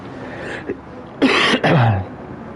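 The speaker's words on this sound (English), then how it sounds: "Sorry if I keep on coughing, I have got a little bit of a cough at the moment" A commentator coughs and clears his throat, two loud bursts close to the mic, during MRC Infinity X League racing commentary.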